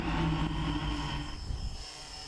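A small unmanned aerial system drone takes off, its tiny propellers giving a loud, steady buzzing whine close by that eases slightly as it lifts away.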